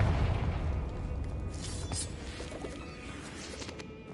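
Spell explosions from Confringo in Hogwarts Legacy on PS5: a loud, dense burst up front fades into a rumbling, crackling tail, with further pops and flares over a steady game backdrop.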